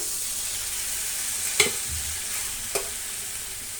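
Chopped garlic and three tomatoes frying in a pan for brinjal gravy, a steady hissing sizzle throughout with two brief spoon knocks against the pan, close and even in loudness.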